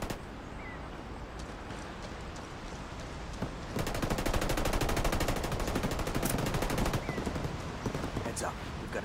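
Gunfire in the Ghost Recon Wildlands video game: scattered shots at first, then from about four seconds a loud, sustained automatic burst with rapid, closely spaced cracks that continues to the end.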